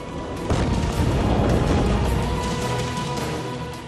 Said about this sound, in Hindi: धमाका होते ही धरती फटने लगी, छत गिरने लगी, बिल्डिंग हिलने लगी, घर के शीशे टूट गए